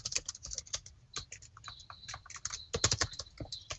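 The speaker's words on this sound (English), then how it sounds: "You can write some text inside it and then save it, Mohammed." Typing on a computer keyboard while entering text in the vi editor on Linux, a quick irregular patter of close, crisp key clicks with brief pauses and a denser burst near the end.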